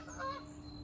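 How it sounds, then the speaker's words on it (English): A goose honks once during a flyby, a brief, faint, nasal call with a steady low hum beneath it and no speech. "Oh, honk honk, says the goose."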